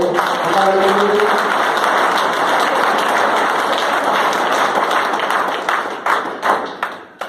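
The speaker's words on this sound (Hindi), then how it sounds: "मैं चाहूंगा एक बार जोरदार तालियों से" Audience at an RCM business meeting in Dausa gives a loud round of applause to welcome a guest, dense clapping that holds steady, then thins into scattered claps and taps before fading.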